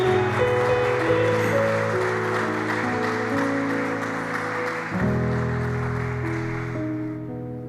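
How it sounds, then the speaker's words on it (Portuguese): A church congregation applauds during a celebration worship service, a dense, steady clapping that fills the room over sustained organ-like keyboard chords, then slowly fades toward the end. "Você pode aplaudir ao Senhor?"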